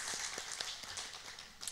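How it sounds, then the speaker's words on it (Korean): Church congregation at a Sunday worship service clapping in thanks for the choir and a deaconess, a loose run of separate claps spread across the room, fairly faint and alone. "우리 찬양대 우리 감사의 박수 한번 치고 권사님 위해서도 우리 박수 한번 치도록 하겠습니다."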